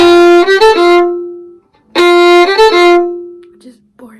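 A strathspey tune phrase played plainly without a hammer-on, heard twice as a loud, clear run of sustained melodic notes with a brief pause between the two passes and a faint trailing note at the end.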